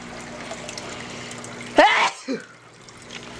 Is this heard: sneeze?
yes